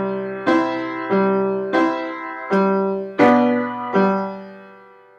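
Piano plays the intro figure of a song, six sustained chords struck at a slow steady pace, each ringing and fading, solo and clear with no talking.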